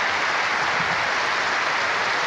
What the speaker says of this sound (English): Derek's family being applauded by both sets of supporters